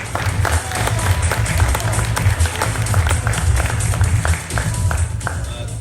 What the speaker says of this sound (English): please give a big round of applause for Mr. Eric Gomez